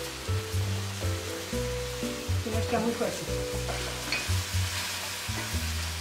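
Boiling water poured slowly onto toasted coconut in a pan, giving a steady, moderately loud sizzle and frying hiss beneath someone speaking and a faint musical background.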